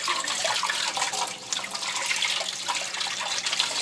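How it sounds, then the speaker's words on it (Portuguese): Steady tap water runs loudly and continuously in a kitchen sink, rinsing vinegar off watercress leaves with a dense, even splashing hiss throughout. "Aqui tá com vinagre, ainda passar água para tirar."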